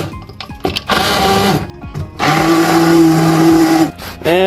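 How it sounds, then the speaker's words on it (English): An immersion blender whirs loudly in pea soup, chopping up onion chunks in two long bursts separated by short pauses, its motor pitch steady and close. "Now we're just using our immersion blender just to bust up some of the larger chunks of the onion."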